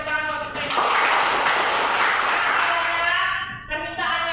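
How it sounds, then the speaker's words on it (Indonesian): A classroom audience bursts into applause, a dense wash of clapping that holds steady for about three seconds before thinning out, with speech before and after. "Ya, beri tepuk tangan buat kita."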